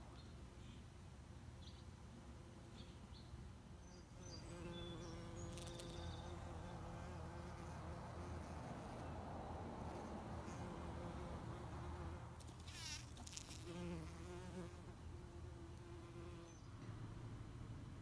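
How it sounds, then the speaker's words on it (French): Insects buzzing steadily in a garden in June, a continuous drone with a few louder passes close by and faint bird calls in the background. "Ça bourdonne partout."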